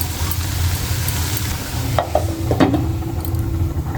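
Greens sizzle and get stirred in a pan with garlic and green chili, a steady close frying hiss with scraping stir strokes near the middle of the clip.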